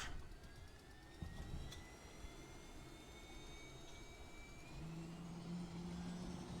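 A helicopter engine in Arma 3 spools up, a steady turbine roar with rising whine tones climbing in pitch over several seconds, loud and continuous with no talk.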